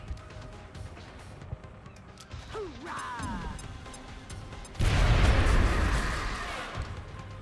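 A heavy grenade explosion booms loudly in a turn-based tactical war game, a broad roaring blast that lingers for a few seconds after quieter whooshes and game effects.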